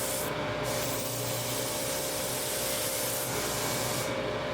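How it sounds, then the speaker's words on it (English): A powered sander spins with a continuous rough, hissing grind while a sanding eraser is pressed against it to clean the belt, loud and close throughout with small shifts in the scraping texture. "I used my sanding eraser to clean up my sander"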